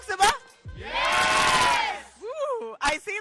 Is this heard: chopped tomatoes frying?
no